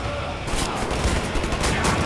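A shotgun roars in Wolfenstein: The New Order, a loud, continuous wash of blast noise with no gaps across two seconds.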